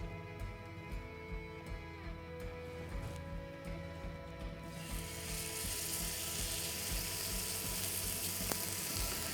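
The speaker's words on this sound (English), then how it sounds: "It's nice and hot and we're looking for a nice sizzle." Steak sizzles in a hot pan, a dense crackling hiss that grows noticeably louder and fuller halfway through, heard close with no talking.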